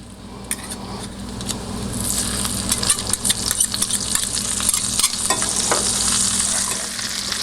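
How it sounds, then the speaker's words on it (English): Walleye fillets fry in a pan while being basted with garlic parsley compound butter, a loud close sizzle that swells as the spoon scrapes and clinks against the metal, with no speech. "This is cooking on what I call side one on the bottom, and then we are basting the fillets on top with the compound butter"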